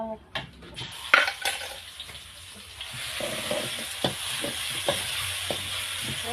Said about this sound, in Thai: ข้าวเช้าค่ะผัดกะเพรา